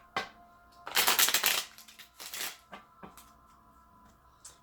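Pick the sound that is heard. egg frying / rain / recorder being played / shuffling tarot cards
shuffling tarot cards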